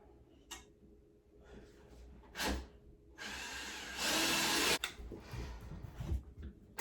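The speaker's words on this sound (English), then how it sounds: "So we're gonna just drill a 7/32 hole right in the wall." A cheap budget drill bores a 7/32-inch hole into a studio wall, its whine rising in a couple of short bursts, then a steadier, louder grinding run near the end, with a few clicks and a dog nearby.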